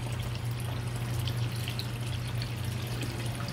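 Running water rinses scooped aloe vera gel, a steady splashing wash with a constant low hum underneath.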